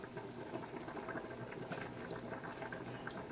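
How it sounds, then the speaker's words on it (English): Gefilte fish balls drop into fast-simmering stock, a steady close bubbling and patter of liquid with faint light splashes throughout, no voices. "Now we drop the balls into the simmering stock."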